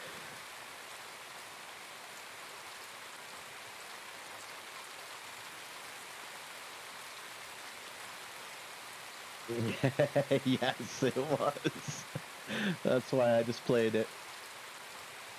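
Steady, soft rain hiss fills the scene in a video game, continuous and even throughout, with a person talking over it toward the end.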